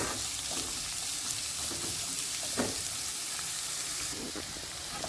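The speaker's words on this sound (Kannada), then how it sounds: "ಈಗ ಇದು ಫ್ರೈ ಆಗಿದೆ" Onion and curry leaves fry in a pan, giving a steady close sizzle and hiss throughout, with faint stirring scrapes and no talking.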